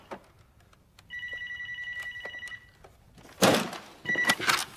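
An old-style telephone bell rings in bursts, loud and close, with a clunk and some rustling between rings.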